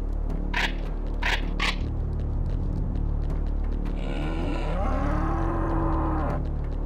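A cow moos once, long and drawn out, in the video game Serious Sam HD, after a few short metallic clinks, all over a continuous low game rumble.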